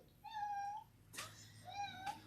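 A cat gives two clear, fairly close meows with a short gap between them, each one drawn out and rising, and a brief scuffle or rustle falls between the calls.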